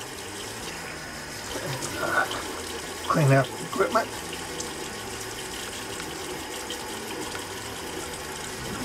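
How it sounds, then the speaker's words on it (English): Hot water runs from a tap into a sink during a wet shave, a soft, steady splashing hiss that continues throughout beneath a man's brief speech. "Get some hot water down here"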